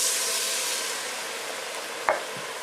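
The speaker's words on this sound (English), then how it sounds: "we're going to give it a stir and scrape up as much as we can of all that flavor" Vegetables stirred in a hot pan as wine deglazes the fond, a steady broadband sizzle throughout with a single sharp scrape of the spoon near the end.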